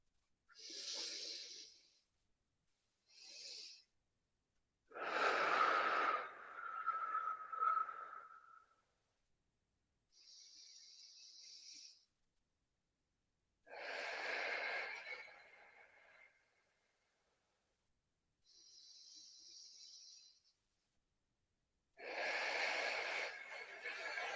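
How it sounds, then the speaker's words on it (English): Slow, deep breathing during a relaxed guided meditation, with long drawn inhales and exhales in about half a dozen separate breaths and quiet pauses between them, fairly close and clear, with no talking over it. "Take a few deep breaths."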